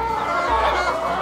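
Atak-S laying hens cluck close by in a steady, continuous flock murmur of overlapping calls, with no talk over them.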